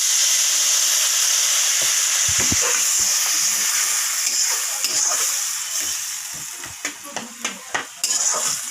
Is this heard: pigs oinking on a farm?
no